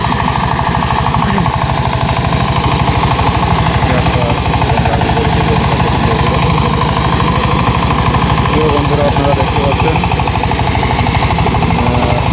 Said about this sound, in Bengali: এসআই কোম্পানির একটি পাওয়ার টিলার দিয়ে শুকনা জমি চাষ করছে কৃষক